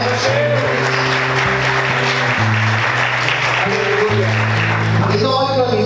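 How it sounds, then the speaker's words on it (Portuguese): A church congregation claps for the Lord during a sermon, dense clapping spread under sustained organ or keyboard chords, with voices and singing mixed in and loud throughout. "Aplauda o Senhor mais forte."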